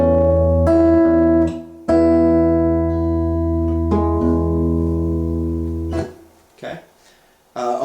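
An acoustic guitar strums a few full chords that ring out and sustain between strikes, close and fairly loud, with a brief quieter tail.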